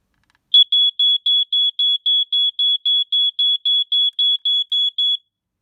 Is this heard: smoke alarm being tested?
yes